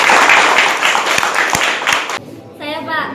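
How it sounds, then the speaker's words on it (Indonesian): Students in a classroom clap for a classmate's answer, a burst of dense clapping with a few sharp individual claps, then it stops abruptly and a voice speaks briefly. "Beri tepuk tangan dulu teman-teman."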